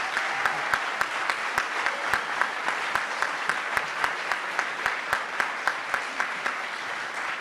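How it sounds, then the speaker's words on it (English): A crowd at a civic ideas event in Atlanta applauds steadily at a moderate distance, with sharp, evenly spaced claps standing out from the dense wash of clapping throughout. "Let's give them a round of applause."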